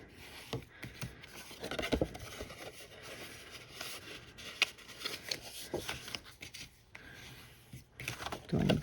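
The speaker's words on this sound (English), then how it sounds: "we're going to start by burnishing score lines." A burnishing tool rubs and scrapes score lines into card stock, making soft, quiet scratching strokes in an uneven rhythm, close up, with a few sharper taps in between.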